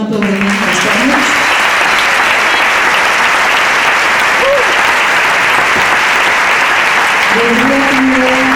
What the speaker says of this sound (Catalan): un aplaudiment als tècnics